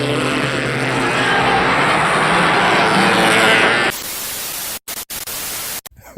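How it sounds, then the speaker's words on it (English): 1/8 scale Arrma Typhon 223S RC buggy at a race, a loud hissing rush of motor and track noise for several seconds, then sudden quiet broken by sharp clicks. "This is a 1/8 scale Arrma Typhon 223S."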